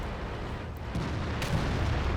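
A tank gun shell strikes the turret of an FV 4202 (P) in World of Tanks, a dull booming impact that rumbles on briefly, loud and close with no voices.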